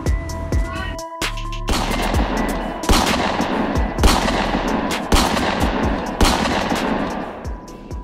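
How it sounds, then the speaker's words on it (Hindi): Dramatized rifle gunfire from British soldiers shooting at a peepal tree, dense overlapping loud shots and volleys cracking in rapid succession after a short lead-in, with layered effects underneath. "ब्रिटिश सैनिक एक पीपल के पेड़ पर अंधाधुंध फायरिंग कर रहे थे।"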